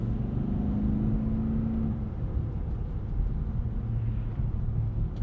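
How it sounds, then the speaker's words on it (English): Steady low drone of a Toyota Tundra TRD Pro pickup's exhaust while cruising, with a sustained engine hum that shifts slightly partway through, constant and fairly close with no talking. "the Tundra's exhaust gets old."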